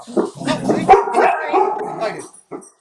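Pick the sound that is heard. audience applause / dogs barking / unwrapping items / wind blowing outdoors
dogs barking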